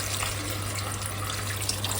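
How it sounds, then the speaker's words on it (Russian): Boiled water poured over seasoned beans in a pot in a home kitchen, a steady soft rushing pour running continuously and evenly throughout, close and fairly quiet. "Далее я залью кипяченой водой"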